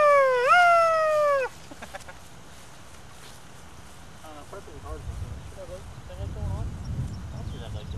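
A loud warbling call rings out, followed by fainter chirping bird calls scattered over background hiss and low rumble.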